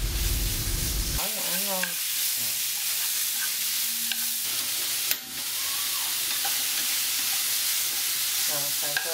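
Pork belly frying in a pot with minced lemongrass, a loud constant sizzle and hiss with scraping and stirring noises close by and brief tonal sounds in the background.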